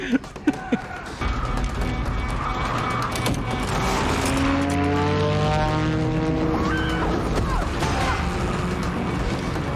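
Propeller airplane droning loudly and steadily in flight, its engine tone sweeping in pitch as it passes, with a few sharp knocks at the start and no talk over it.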